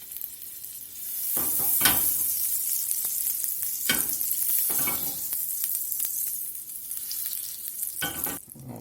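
Olive oil and a small pat of butter sizzle in a skillet for Cajun steak bites, a steady close hiss rising and holding with a few louder spits and crackles.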